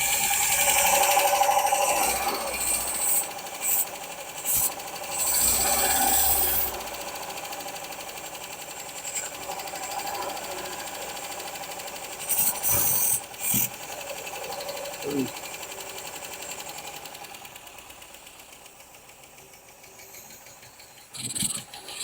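Engine cranking and sputtering on a 1971 MGB GT with untuned carburetors, delivered as bursts of mechanical clatter and ratcheting separated by quiet gaps, then fading to a rough idle near the end.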